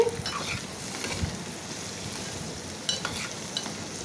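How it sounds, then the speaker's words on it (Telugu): Ivy gourd and carrot curry is stirred in a pan over steady frying sizzle, with a few close scrapes of the spoon against the metal and no talking. "ఈ విధంగా మొత్తం కూడా కలిసే విధంగా కలుపుకోవాలండి"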